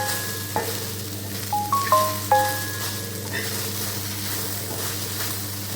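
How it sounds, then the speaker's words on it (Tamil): Okra sautéing in a pan with chili powder gives a steady low sizzle, with a few short scraping stirs near the start and brief tonal clinks, then a continuous quiet frying hiss without speech. "மிளகாத்தூள் சேர்த்து இன்னும் நல்லா வதக்கி விடலாம் வெண்டைக்காய் நல்லா வதங்கிடும்"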